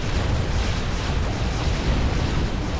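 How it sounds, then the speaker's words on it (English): Continuous rumbling artillery barrages and explosions in the strategy game Supreme Commander: Forged Alliance, with Titans and Percivals fighting, forming a steady dense roar with no clear gaps, heard alone without voices. "There's walls of artillery here."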